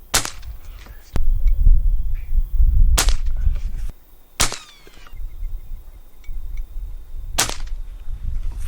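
Beeman QB78S air rifle fired over a chronograph, four sharp loud cracks spaced a couple of seconds apart, each with a short ringing tail, over a low background rumble.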